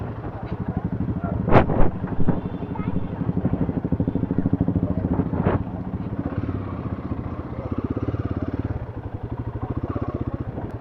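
A motorcycle that has just skidded and fallen chugs steadily up close in Maredumilli, its rhythmic putter broken by a couple of sharp knocks, while someone talks over it.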